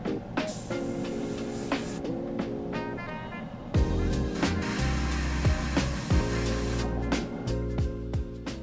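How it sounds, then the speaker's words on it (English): A hair dryer whirs steadily while drying glow paint on a spoon between coats, switching to a louder, deeper blast partway through, running continuously with some faint clicks and knocks. "we'll hit it with the hairdryer"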